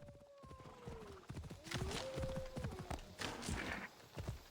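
Hooves clip-clop steadily while a horse whinnies with rising and falling cries, all layered over busy, clattering game sounds in Assassin's Creed Odyssey.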